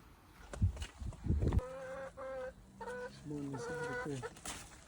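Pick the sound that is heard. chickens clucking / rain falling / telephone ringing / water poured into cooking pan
chickens clucking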